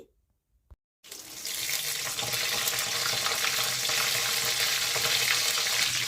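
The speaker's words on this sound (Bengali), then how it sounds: "আমরা সর্ষের তেলে ফ্রাই খেতে পছন্দ করি, তাই ফিঙ্গারটা সর্ষের তেলে ভাজছি।" Chicken fingers fry in mustard oil, a steady dense sizzle that starts after a second of quiet and continues evenly, close and moderately loud.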